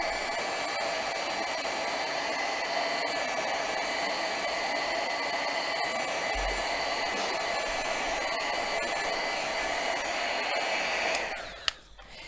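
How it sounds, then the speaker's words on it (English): Heat gun blowing hot air over a papercraft card background, a steady close whirring hiss that runs continuously before cutting off near the end, with a small click. "I'm just going to heat it with my heat gun so that I can ink on top."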